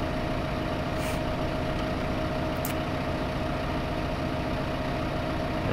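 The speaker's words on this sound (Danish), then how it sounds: "Jeg sætter simpelthen bare lige traktoren her i midten af det hele." A tractor's diesel engine idles in Farming Simulator, a steady low rumble with a constant hum, close and even for the whole stretch, with a couple of faint hisses and no talk.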